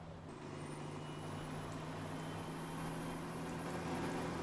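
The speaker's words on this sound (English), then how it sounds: "the traffic sounds much better with this mod" Truck traffic in American Truck Simulator, modded, with a Mack R700 on the road in Wyoming: a steady low engine drone and road rumble with faint hiss, continuous and moderately quiet, no voices.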